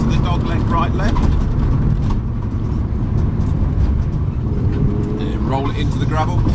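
A rally car engine pulls hard at full power on a gravel stage, a loud, close, sustained roar. A voice talks over it throughout.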